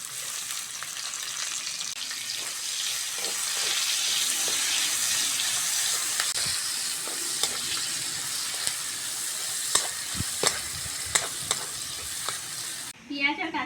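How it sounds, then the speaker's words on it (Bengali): Chopped onion and green chilies frying in oil in a wok, a dense, steady sizzle with intermittent spoon scrapes and taps that grow more distinct toward the end. "তেলের মধ্যে কুচোনো পেঁয়াজ আর কাঁচা লঙ্কাটা দিয়ে দেবো"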